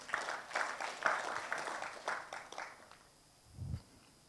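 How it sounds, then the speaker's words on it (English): Audience at an innovation festival pitch competition clapping for the innovators, a broadband patter of many hands that fades out after about three seconds, followed by a brief low thump. "Clap for yourselves."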